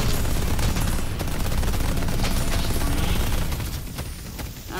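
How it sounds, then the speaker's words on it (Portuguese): Sustained gunfire from tower shooting in the Valve video game Deadlock: dense, continuous volleys of shots stay loud and close across the whole stretch and thin slightly toward the end. "Vamos encher de tiro aqui."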